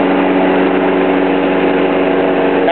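A 4 hp lawn mower engine fueled by a gasifier runs loud and close in a smooth, steady buzzing drone, alone with no talk.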